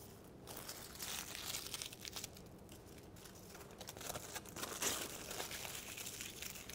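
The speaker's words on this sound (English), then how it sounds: "Now, we have here our aluminium foil. We're going to just scrunch it into little balls." Aluminium foil being scrunched into small balls by hand, faint irregular crinkling and crackling rustles, close up and quiet, with a brief sharper crunch near the end.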